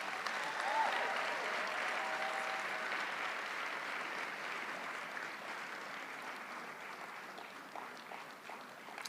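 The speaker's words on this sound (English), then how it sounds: "Please give them a huge round of applause." A summer graduation ceremony audience applauds academic staff and supervisors, a broad sustained round of clapping filling a large hall at moderate distance, gradually easing off.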